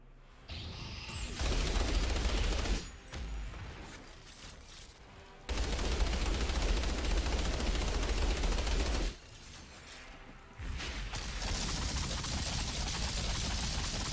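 Auto rifle fire in the looter-shooter Outriders during the Chrysaor boss fight: long sustained bursts of rapid shots, loud and close, broken by two short pauses.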